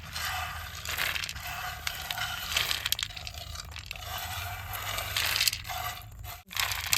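Roasted corn kernels crushed and rubbed between the hands, a dense, continuous gritty crackle and scrape of dry husks and kernels, close and steady for several seconds with a brief pause near the end.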